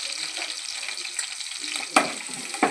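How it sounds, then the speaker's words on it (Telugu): Garlic pieces with green and dried red chilies frying in hot oil give a soft, continuous sizzle, broken by two sharp clacks of a utensil against the pan, with no talking. "ఆయిల్ వేడెక్కాక తెల్లుల్లి ముక్కలు వేసుకుంటున్నాను అనమాట."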